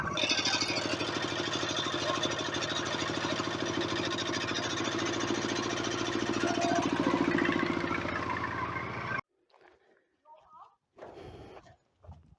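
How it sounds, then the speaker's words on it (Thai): Farm tractor engine revved hard to drive a power generator, a loud steady mechanical drone with a slight rise before cutting off abruptly, followed by quieter scattered sounds and faint voices. "เราต้องเพิ่มรอบรถไถขึ้นนะครับผม"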